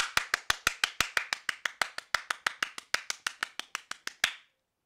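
A steady run of about twenty-five sharp claps in an even rhythm, close and loud, ending abruptly.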